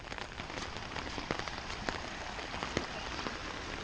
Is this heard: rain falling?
yes